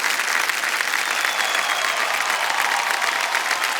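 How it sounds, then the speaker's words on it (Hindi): A studio audience on the quiz show Kaun Banega Crorepati breaks into sustained, even applause, a dense wash of clapping heard alone at moderate volume. "अब तालियां बज जाएं"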